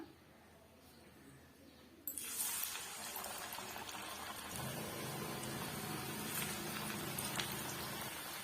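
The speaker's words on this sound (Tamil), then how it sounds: "ஆயில் நல்லா சூடாயிட்டு வந்துடுச்சு இப்போ நம்ம தட்டி வச்சிருக்க வடையை வந்து அப்படியே நம்ம சேர்த்து விட்டுக்கலாம்" Vada fritters dropped into hot oil break into a bright, steady sizzle that jumps in suddenly after a quiet start, then settles into continuous close crackling and bubbling.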